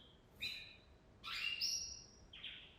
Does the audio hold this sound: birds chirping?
yes